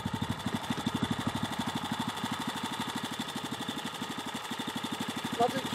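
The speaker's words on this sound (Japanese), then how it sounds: "今度畝と畝の間、オートカルチで、耕したいと思います。" Walk-behind auto cultivator engine running steadily while tilling between potato rows, a rapid regular low thumping of a small engine that continues close and loud throughout with no talking.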